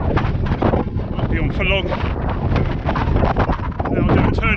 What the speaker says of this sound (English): You can tell it's very windy